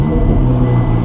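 A Ferrari 488 Pista Piloti with a 720-horsepower V8, just started in Race mode, holds a steady, loud, deep idle rumble close by, unbroken and with no talking.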